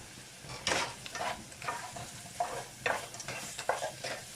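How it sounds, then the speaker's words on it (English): Cheesy broccoli pasta being stirred in a pan, with repeated scraping strokes of a utensil and a light sizzle running underneath, close and moderately loud, no voices. "I'm just going to stir this up a bit"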